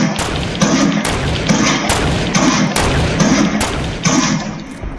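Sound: gunshots in Fortnite video game

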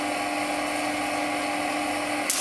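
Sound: high-voltage generator switched on in a Tesla science show

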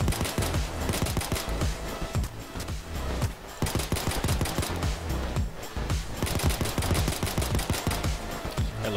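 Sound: pistol gunfire in the video game Payday 2

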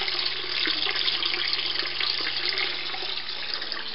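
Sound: water flowing through a loop siphon in an aquaculture tank

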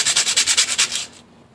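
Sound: sanding to clean surface of cracked engine case

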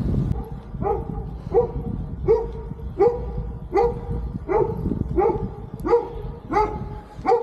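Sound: dog barking

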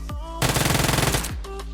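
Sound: gunfire in the video game PUBG Mobile

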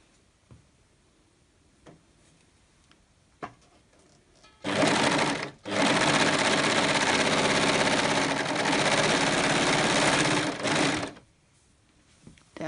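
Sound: sewing machine stitching side seam of ruffles

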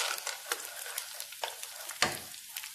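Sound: chickpeas added to browned onions, frying and sizzling in a pan

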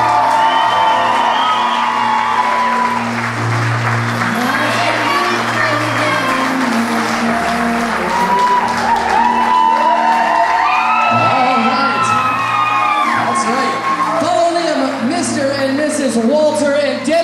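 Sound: wedding guests applauding and cheering

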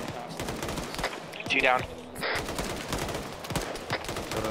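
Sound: gunfire in a military shooter video game

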